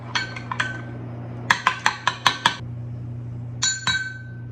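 A utensil stirs yeast and sugar in a bowl for roll dough, producing a quick run of sharp clinks against the bowl, then a couple more taps, over a low steady hum.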